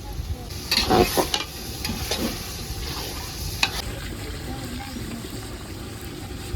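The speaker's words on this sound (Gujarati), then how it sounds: "ટમેટાને એડ કરી દીધા છે હવે ટમેટા સડે ને ત્યારબાદ ઓળાને આપણે નાખશું" Tomatoes frying in a pan for Gujarati olo, a close hiss and sizzle with scraping stirring strokes early on, settling into a steady quieter frying sound.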